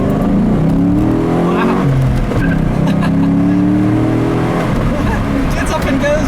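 A car accelerates hard along a back road, its engine note climbing loud and close in rising sweeps before settling, with a brief exclamation from someone inside.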